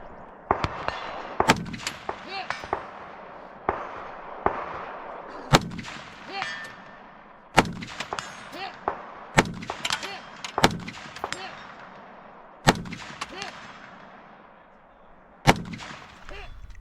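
Rifle gunfire at a shooting match, sharp individual shots fired at an unhurried, irregular pace, some nearby and loud with echoing tails, alongside fainter distant shots.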